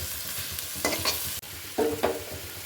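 Spices and green peas stir-fried in a pan, two bursts of scraping and sizzling as the mixture is turned, with a steady low fry in between.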